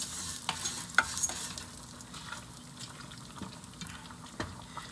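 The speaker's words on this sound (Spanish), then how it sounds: "aquí está mi pasta que quiero que se termine de dorar" Pasta browning in a pot for beef noodle soup gives a soft, steady sizzle with light scraping and occasional sharp clinks as it is stirred, quiet and continuous throughout.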